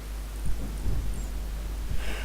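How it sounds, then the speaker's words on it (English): A thunderstorm at sea in the Assassin's Creed 3 video game, heavy low rumbling thunder under steady rain noise, loud and close with a few deeper swells, no talking. "You wish us to sail into the storm."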